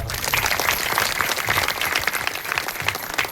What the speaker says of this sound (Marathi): त्यांच्याकडे टाळ्या वाजवतो.